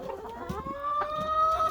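A backyard hen clucks and croons in a drawn-out, wavering call, close and fairly loud, with a few soft scratchy noises underneath.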